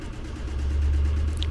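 A small Yanmar 2GM marine diesel idles with a steady, low, throbbing rumble, fairly loud and close, running too fast during a governor check. No voices.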